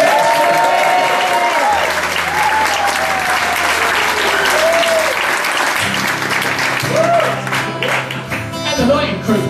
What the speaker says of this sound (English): So just to give an early round of applause for our sound crew.